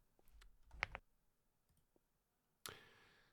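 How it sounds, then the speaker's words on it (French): A computer keyboard clicks in a quick, faint flurry of keystrokes, then goes quiet before one sharper, louder tap near the end. "Excusez-moi pour les bruits de clavier."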